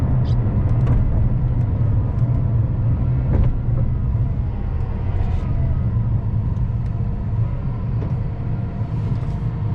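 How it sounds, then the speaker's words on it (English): A LaFerrari supercar cruises along a highway, its engine and road noise forming a steady, loud low rumble throughout, with faint voices and occasional light knocks in the cabin. "You guys are literally driving a LaFerrari right now."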